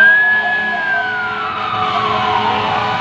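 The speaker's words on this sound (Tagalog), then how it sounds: "Nagmumotorcade yung mga bumbero." Fire truck sirens from a firefighters' motorcade wail close by on a city street, pitch sliding downward over a steady background of engine rumble.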